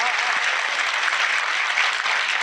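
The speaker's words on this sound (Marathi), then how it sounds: "जोरदार टाळ्या एकदा आजीसाठी वाजवा" Dense, loud applause from a lecture audience, a steady wall of clapping that holds evenly from start to finish with no voices over it.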